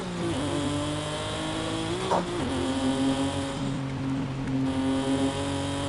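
A synthetic car engine in Forza Horizon 5 drones at high revs, with a brief pitch jump as a gear changes, then holds a steady whine without any talk.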